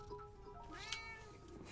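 A house cat meows once, a clear rising-and-falling call heard close up over a faint background hum from a gaming session.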